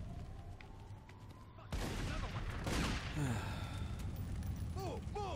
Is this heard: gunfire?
yes